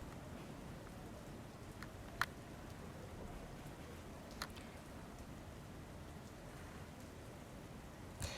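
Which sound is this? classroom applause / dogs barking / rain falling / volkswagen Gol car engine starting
rain falling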